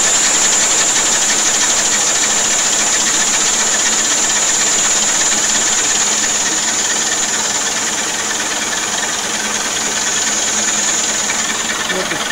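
A homemade rotating flow turbine runs flat out at full throttle, giving off a steady, loud, high whistling hiss with a fast rattling whir underneath, unbroken throughout.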